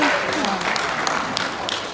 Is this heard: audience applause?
yes